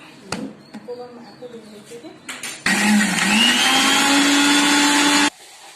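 A mixer grinder whirs loudly for about three seconds while it grinds chutney, starting abruptly and cutting off sharply. It comes after a few clicks and brief handling sounds in a kitchen.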